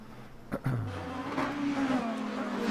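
A Porsche and a Lamborghini race car battle at Monza in the Le Mans Ultimate racing game. A brief thump comes first, then a single engine howls louder, its whine climbing steadily in pitch as it accelerates down the straight.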